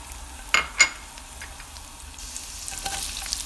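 Garlic hits hot oil in a pan for a rice and egg noodle dish with longganisa. Two sharp sizzling bursts come first, then a quieter steady frying crackle.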